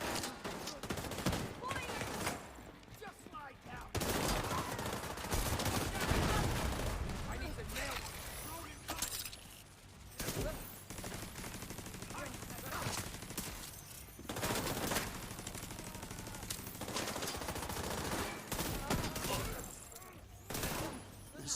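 Fire-bullet gunfire in the shooter game The Division 2 comes as loud bursts of rapid shots with brief gaps, heavy and continuous across the stretch, with game voices mixed in.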